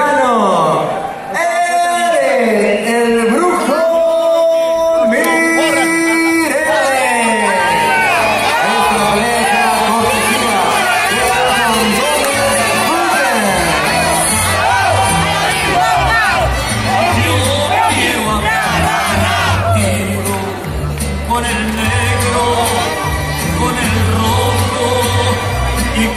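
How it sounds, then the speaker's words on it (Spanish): A crowd at a boxing event cheers and applauds to welcome a Mexican boxer. The loud, sustained crowd noise is mixed with music and voices throughout. "el aplauso para recibir al mexicano."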